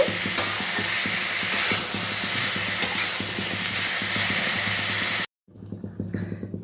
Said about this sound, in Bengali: এখানে আমি থোরটা দিয়ে দিয়েছি, থোরটাকেও ভেজে নেব।